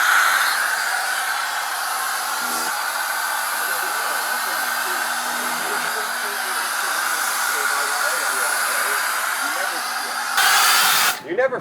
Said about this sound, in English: you just connect your foam cannon and you're all good to foam